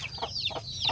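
A turkey on a farm gives two quick, close calls within a second, sharp and fairly loud over faint background noise.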